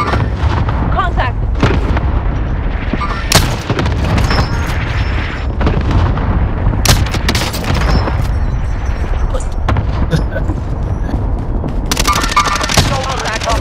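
Cluster strike explosions in Call of Duty: Modern Warfare pound again and again as loud booms and crackling blasts, with gunfire and players' voices mixed in.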